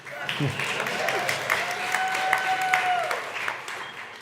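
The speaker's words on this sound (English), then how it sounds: "They deserve another round of applause" Steady applause from an audience fills the space, a dense patter of clapping that carries on throughout with some voices mixed in.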